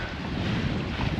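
Strong wind roars steadily across the microphone aboard a sailboat at sea on a solo Atlantic crossing from Bermuda to the Azores, with water and wave wash mixed into a constant, loud, close rush.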